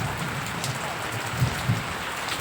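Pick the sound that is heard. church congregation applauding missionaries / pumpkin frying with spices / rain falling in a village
rain falling in a village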